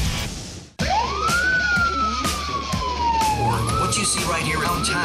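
Police car siren wailing loud and close, its pitch rising sharply after a brief cut then sweeping slowly down and back up, over vehicle rumble and short bursts of other noise.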